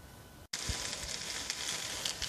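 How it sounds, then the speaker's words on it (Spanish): Tomatillos and habanero chiles roasting on a hot comal, a steady, close sizzle with faint crackles that starts abruptly after a short gap and continues throughout. "voy a poner a asar los tomatillos y el chile"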